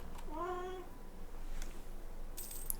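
A pet cat gives one clear, drawn-out meow close by in a quiet indoor room, followed by faint household clicks and a small high chime.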